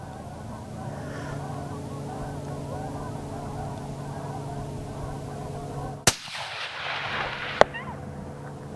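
A single loud rifle shot at a coyote on a steep hillside, sharp with a rolling echo, breaks a steady outdoor rumble, then a faint knock follows about a second and a half later.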